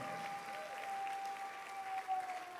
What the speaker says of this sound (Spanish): no sé cuántos pueden darle un aplauso al Rey de la Gloria